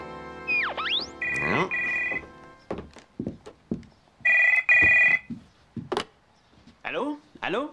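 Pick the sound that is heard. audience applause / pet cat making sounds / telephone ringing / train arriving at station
telephone ringing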